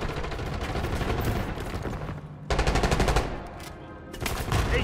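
Automatic gunfire in Call of Duty: Black Ops 6, heard as loud rapid bursts. A long rattling volley comes first, then a brief pause, then two more sharp rapid-fire bursts close by.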